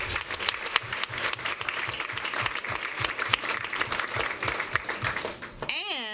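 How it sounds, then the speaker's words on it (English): Steady, dense applause from a crowd at a school board meeting celebrating a boys 4x400-meter relay state runner-up team, loud and continuous, ending with a brief electronic squeal. "Let's give them another round of applause"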